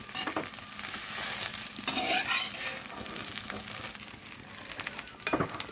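Tamarind stirred in a pan for Guntur-style gongura pickle, a steady sizzling fry with soft scraping strokes of the spoon, close and continuous, with a brief clatter near the end.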